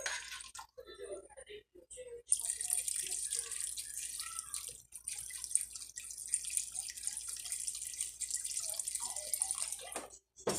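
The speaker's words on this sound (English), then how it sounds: "I'm just pouring a little bit in at a time and stirring." Liquid trickles and drips into a pot of jambalaya, added a little at a time while stirring, a steady close splashing with brief pauses.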